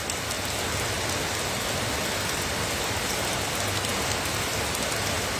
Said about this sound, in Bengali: তারপরে তো বৃষ্টি হচ্ছেই।